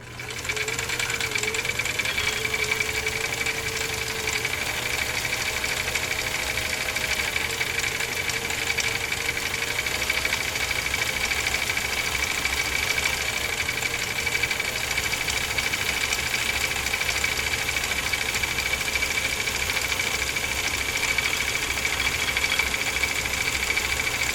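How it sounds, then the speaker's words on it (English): A Husqvarna Viking Type 21 sewing machine stitches leather in a continuous, even mechanical whir and rapid needle knocking that holds steady throughout, close and fairly loud, with no voices. "And here we go, folks. Make sure my needle is in the highest position, and let's roll."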